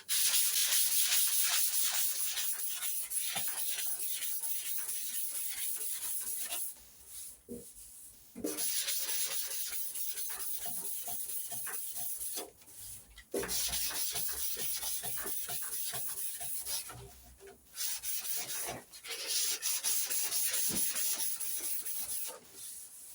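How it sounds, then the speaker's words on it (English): Hand sanding of body putty on an MGB GT with 320-grit paper on a block: steady close scraping strokes in long runs, broken by a few short pauses. "I should probably start with a bit of a coarser grit in this really, but I've got 320 on my block"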